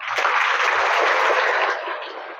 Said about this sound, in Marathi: ओके, जोरात टाळी वाजवा.